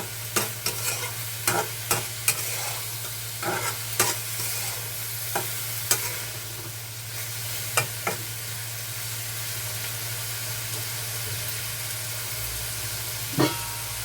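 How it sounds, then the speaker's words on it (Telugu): Cluster beans (goruchikkudu) frying in oil, a steady soft sizzle with scattered sharp stirring clinks and scrapes against the pan and a constant low hum, close and without speech. "కొంచెం ఆయిల్లో వేగాలి ఈ గోరుచిక్కుడు"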